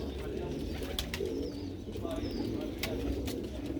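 Red-pearl-eyed pigeons cooing up close, soft repeated throaty calls over a low background murmur with a few brief sharper chirps.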